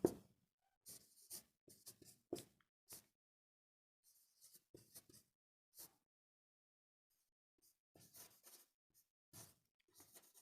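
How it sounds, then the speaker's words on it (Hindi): Chalk or a marker scratches out a sentence on a board in short, separate bursts of quick strokes with pauses between words, close up and faint, with no talk. "अगला सेंटेंस दोस्तों मैं आपके सामने लिखता हूं"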